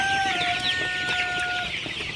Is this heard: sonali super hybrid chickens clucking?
yes